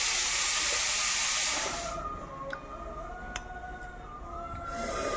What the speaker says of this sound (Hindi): अभी दाल पका रही हूँ मैं, दाल का आवाज़ सुनाई दे रहे होंगे आप लोग भी